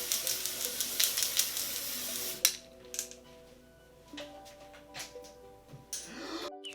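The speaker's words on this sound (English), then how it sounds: "It's the Ultrasun SPF 50 spray." Ultrasun SPF 50 sunscreen spray, a loud continuous hissing burst for about two seconds, close to the microphone, followed by quieter rustling and light clicks.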